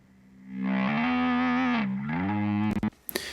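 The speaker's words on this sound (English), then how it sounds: "that's actually me using an Ebow" A sustained, swelling electric guitar tone played with an EBow, smooth bowed-like attack, bending slightly in pitch, then a few sharp clicks at the end.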